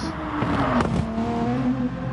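An Aston Martin V12 GT3 race car engine in a racing sim at Spa-Francorchamps roars past at high revs, its pitch sweeping as it passes, loud and close with a steady droning tone.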